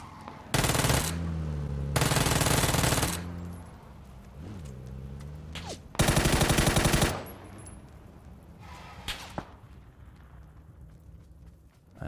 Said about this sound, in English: There's a guy on the ridge shooting at me from up here somewhere